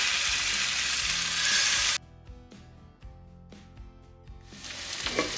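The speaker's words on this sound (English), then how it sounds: "So take some butter. Okay. And then add the salmon pieces." Salmon pieces laid skin-down in melted butter in a pan, a dense loud sizzle that cuts off abruptly, followed by quieter clinks and faint crackling before the sizzle swells again.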